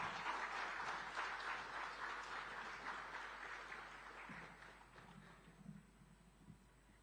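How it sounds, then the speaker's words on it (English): Sustained audience applause at a smart manufacturing summit, a dense wash of many hands clapping loudly at first, then gradually thinning and fading toward the end. "Can we have a huge round of applause, ladies and gentlemen, once again?"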